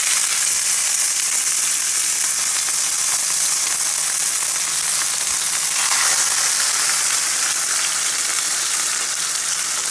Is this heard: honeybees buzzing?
no